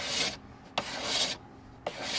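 Rough body filler on a widebody Mercedes SL500 R129 kit is shaved down in three long rasping strokes, each a loud scraping rub with a sharp tap between strokes.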